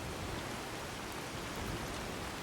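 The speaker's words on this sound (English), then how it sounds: "But I think with the rain, they can't hear me." Steady rain pours down in the video game Fallout 4, a dense, even hiss of drops filling the whole stretch with no voices or other sounds over it.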